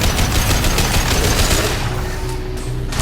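Rapid bursts of automatic gunfire rattle in the Mass Effect 2 video game, loud and close, a dense stream of shots that eases off toward the end with no talk over it.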